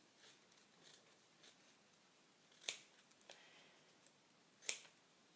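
Scissors snip paper from a book being folded into a hedgehog craft. Two distinct, quiet, crisp cuts are heard close by in a near-silent room.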